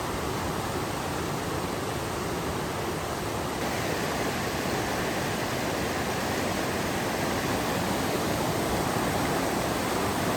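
The Zigzag River flowing beside a campground, a steady broadband rush of moving water heard up close, continuous and even in level with no voices.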